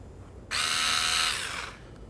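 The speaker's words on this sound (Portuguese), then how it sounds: "Para parafusar, coloco o botão de um lado e aperto." A Black&Decker 9078 3.6V cordless rechargeable screwdriver drives a screw. After a quiet start, a loud, close motor whir runs for just over a second and then winds down, with no speech.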